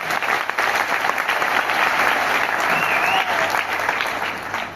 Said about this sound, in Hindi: एक बार वेस्टीज के लिए जोरदार तालियां।